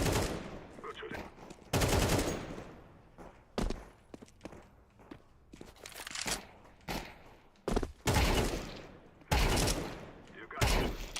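Gunfire in a shooting video game: repeated bursts of automatic fire, loud and close, separated by short gaps, with footsteps and occasional thuds in between.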